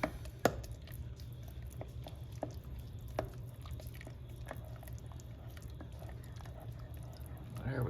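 Sour cream, a pint of it, is being stirred into beef stroganoff, giving soft wet scraping with scattered light clicks of the utensil over a steady low background hum.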